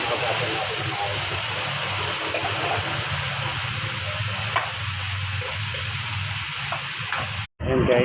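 Cow skin fries with shrimp paste in a pan for a beef-skin Bicol Express, a continuous close sizzle and bubbling hiss with faint stirring, cut by a brief dropout near the end.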